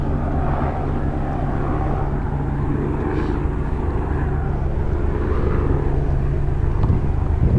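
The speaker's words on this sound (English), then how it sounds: "Oh, comes another fighter jet." Fighter jet passing overhead near a small Scottish village, a loud, sustained roaring drone that stays steady and grows slightly stronger toward the end, heard outdoors with no talking.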